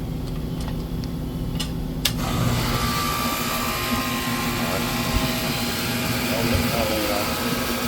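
A residential air conditioning unit kicks on during a field repair and R22 refrigerant charge in Katy, rising into a steady mechanical roar and hum that continues to the end, with a few faint ticks before it starts.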